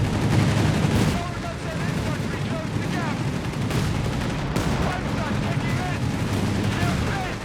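Gunfire and artillery in a Company of Heroes 3 match between German DAK and British UKF forces: dense, continuous bursts of shots and booms, some close and sharp, others distant, running under a commentator's voice.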